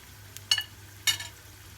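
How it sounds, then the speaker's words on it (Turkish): Rolled gül böreği made from yufka dough of flour, salt and water crisps in a frying pan, with a low steady sizzle broken by two short, sharp crackling bursts. "Bir taraftan üstü de hamur kalmadan çıtır çıtır kızarmaya devam edecek."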